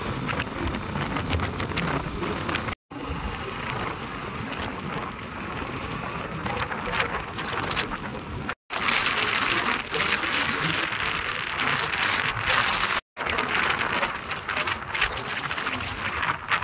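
Heavy rain pours down in Saswad, a steady, dense wash of downpour hiss that fills the whole stretch, briefly cut out three times, with no voices.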